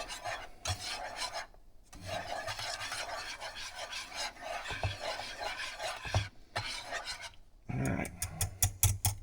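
A spoon rasps and scrapes as seasoned chopped brisket is stirred into mac and cheese, a close, continuous rubbing with brief pauses. A voice speaks a single word.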